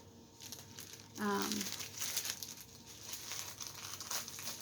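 Plastic packaging on a wool pressing mat crinkles and tears in one short, close burst of handling, then quieter rustling continues under a faint room background.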